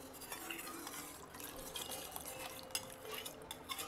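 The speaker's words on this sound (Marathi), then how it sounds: "नंतर आपल्याला ह्याच्यामध्ये पाणी टाकून घ्यायचं आहे" Water poured from a vessel into a pot of curd while making homemade ghee, a short steady splashing pour with light clinks of the pot, close and alone.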